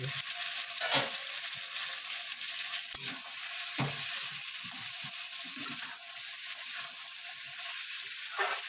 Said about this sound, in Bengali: সিম করে করে কষবো। এটাতে টমেটো সেদ্ধ হয়ে যাবে, সবজিগুলো প্রায় অর্ধেক সেদ্ধ হয়ে যাবে।